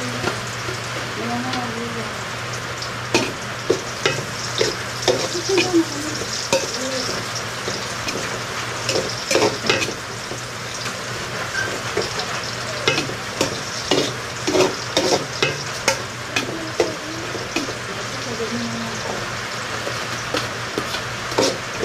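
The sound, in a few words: onion and garlic sautéing in a pan for tinola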